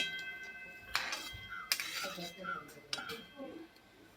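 Metal spoon clinking and scraping against a pot while eggs are stirred into a simmering pot of spicy shevalya curry, a few sharp clinks spaced apart with soft stirring between, close and moderately quiet.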